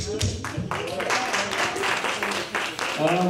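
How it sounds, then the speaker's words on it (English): Applause at a Peekskill NAACP membership drive meeting after a member is thanked: scattered claps from a small room, mixed with murmuring voices and a speaking voice underneath. "Give a round of applause."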